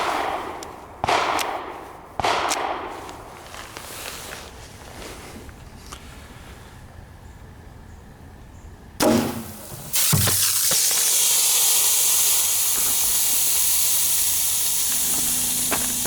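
.22 handgun fired at a bottle of Coke, a few sharp cracks early on, then a louder hit followed by a sustained fizzing hiss of soda spraying out of the punctured bottle.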